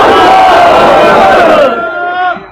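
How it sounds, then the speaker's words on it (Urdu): Rally crowd outside Parliament House chanting slogans in unison, a loud close roar of massed voices holding a sustained shout before it breaks off and fades into a shorter final call. "تو یہ جو آپ نے نعرے لگائے ہیں ابھی"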